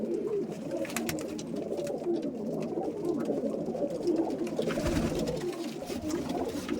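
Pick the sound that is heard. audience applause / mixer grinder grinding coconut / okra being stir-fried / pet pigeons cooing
pet pigeons cooing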